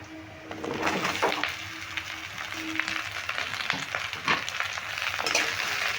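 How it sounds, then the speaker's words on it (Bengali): Sliced ivy gourd (kundri) sizzles in hot oil with lightly browned onions in a pan, a steady close frying hiss broken by scraping stirs of a spatula. "এবার কুঁদরিগুলো পেঁয়াজের সঙ্গে খুব ভালো করে নেড়ে ভেজে নেব"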